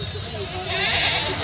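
A goat bleats at a crowded goat market in Lahore, one short nasal cry rising over background chatter and crowd noise.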